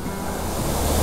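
Water rushing down from higher ground on a rainy roadside stop, a continuous broad roar like a stream or small waterfall, loud and close with some wind buffeting and no talk.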